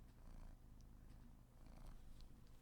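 A cat purrs in a video game, a low continuous rumbling hum that runs steadily throughout at a soft level, with no voices over it.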